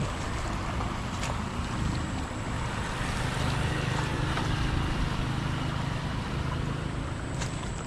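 Strong, steady rush of water pouring through a freshly dug drainage canal beside a planting plot, a broad continuous wash filling the scene without pause.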